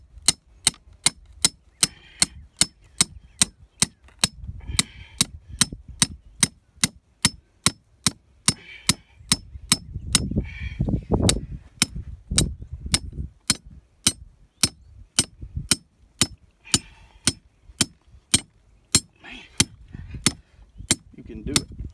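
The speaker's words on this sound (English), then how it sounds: "get the hammer," A hammer pounds a trap stake into the ground with sharp, steady blows repeated about every half second, close and loud, while faint voices come and go.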